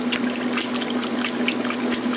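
A 1996 Maytag Dependable Care Plus washing machine fills with water for a rinse cycle, a steady rushing, splashing inflow with a low pump-like hum running continuously throughout.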